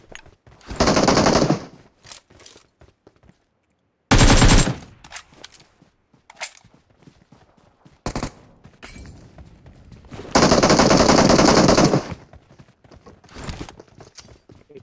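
Bursts of rapid automatic gunfire from a shooting video game come in loud blocks of about a second, with a longer sustained burst later, separated by quieter clicks and footstep-like taps.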